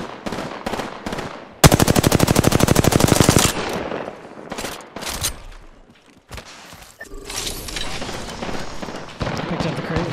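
Automatic weapon fire rattles in the Apex Legends video game: one long rapid burst preceded by scattered single shots, followed by more gunfire and game effects while players talk over it.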